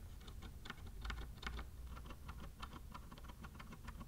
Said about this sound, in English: the keys are very scratchy.